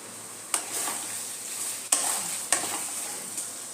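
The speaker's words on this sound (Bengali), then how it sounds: "ভালো মতো মাংসটা মশলার সাথে কষিয়ে নেব যতক্ষণ না তেল বেরিয়ে যাচ্ছে মশলার থেকে" Chicken cooks down with spices in an oily pan, giving a continuous close sizzle broken by three or four sharp spatula knocks against the pan. No one speaks.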